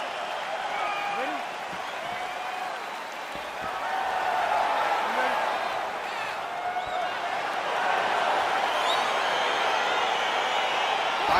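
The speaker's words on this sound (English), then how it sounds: "crowd getting excited as this fight gets underway" An arena crowd in the UFC 4 fighting video game cheers and roars steadily as a bout begins, a broad continuous din that swells partway through, with scattered whistles and shouts.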